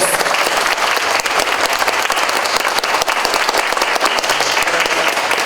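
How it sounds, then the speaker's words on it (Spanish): An audience at a CD launch concert paying tribute to guarania music breaks into loud, dense applause, a continuous close clapping that fills the whole stretch with no voices rising above it. "pido un fuerte, sentido y caluroso aplauso"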